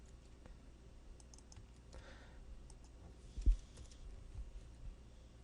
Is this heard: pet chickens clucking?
no